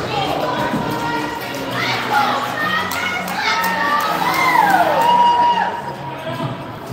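Young voices cheer and shout across an arena at an under-9 hockey playoff game, a lively crowd swelling and whooping with children's yells rising over the rink.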